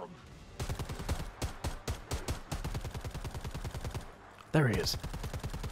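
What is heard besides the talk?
gunfire in the video game Predator: Hunting Grounds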